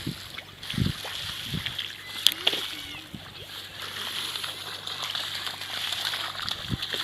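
Irrigation water splashes and sloshes as it flows into a field in a rural village. Light splashing and trickling carries on steadily under quiet background voices, with a few sharper splashes.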